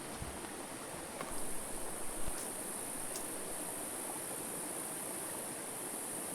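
Continuous broadband rush of water flowing in a nearby creek, steady and even, with a few faint rustles and clicks on top.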